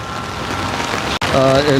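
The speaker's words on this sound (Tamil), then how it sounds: "மழை பெய்ய பெய்ய வெள்ளம் கூடிக்கொண்டே போகுது" Heavy rain pours steadily during a flood in Jaffna, with shops flooded, as a close, loud wash of noise that cuts out for an instant midway, then returns as a voice speaks over it.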